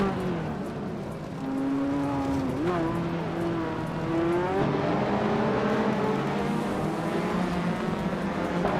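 A Lancia Delta S4 Group B rally car in a racing video game, its engine droning and revving with shifting pitch, steady and fairly loud, with a voice talking over it.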